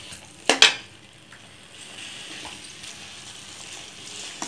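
A couple of sharp metallic clanks of utensils on a pan, followed by a soft, steady sizzle of black-eyed peas (karamani) frying for a stir-fry.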